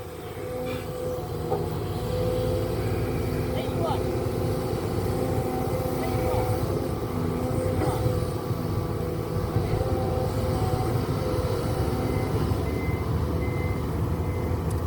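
A Sumitomo SH210F-6 excavator with an Isuzu 4HK turbocharged four-cylinder engine runs with a loud, continuous diesel rumble and mechanical clatter, steady throughout.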